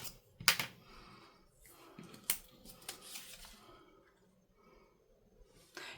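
Scissors snipping and poking at a Rolodex card, giving a few sharp, close clicks and crisp cuts with quiet handling noise between them.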